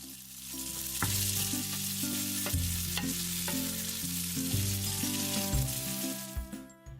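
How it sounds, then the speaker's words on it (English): Shrimp and cooked spaghetti fry in a hot pan with a steady, loud sizzle, and periodic tosses or stirs break into the hiss against a sustained music bed, with no talking. "Add the shrimp to the pan and fry for 2 minutes."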